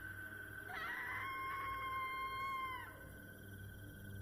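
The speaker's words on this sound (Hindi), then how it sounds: "अचानक बाहर से भयानक चीख सुनाई दी।" A terrible scream comes from outside in an animated horror story, rising sharply, wavering and piercing, then breaking off after about two seconds, with a faint hum underneath.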